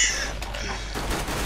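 Gunfire in the video game Counter-Strike: Global Offensive, a burst of close shots with a sharp crack at the start and another loud shot near the end, over a steady background hum.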